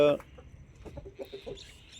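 Free-range chickens cluck softly in short, scattered bursts, with a louder squawk at the start and faint voices in the background.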